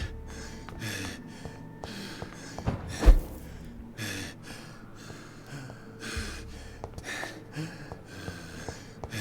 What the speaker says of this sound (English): I hear you gasping for breath.